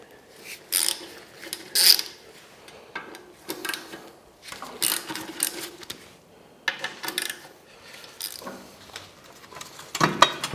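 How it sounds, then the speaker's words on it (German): Bolts being loosened on the flywheel of a BMW R 1150 motorcycle during clutch removal: intermittent metallic ratcheting and clicking of tools, with light clinks and handling noises in irregular bursts. "Und so können wir hier die Schrauben öffnen."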